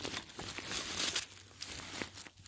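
Plastic bag holding dirty shoes crinkling and rustling close by in a tent on an Appalachian Trail thru-hike, with several sharp crackles over about two seconds.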